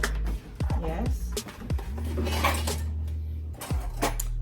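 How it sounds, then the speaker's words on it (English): Butter being creamed with sugar in a bowl for an apple cake, with clinking and scraping of a utensil against dishware, intermittent and close, under a woman's speech and a low steady hum. "you have to cream the butter with the sugar"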